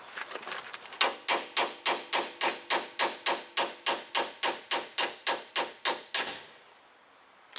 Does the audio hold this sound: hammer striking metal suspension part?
yes